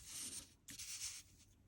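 A pen scratching and rubbing across paper while drawing a bead-and-flower pattern of bees, in short close strokes with a brief lift in the middle.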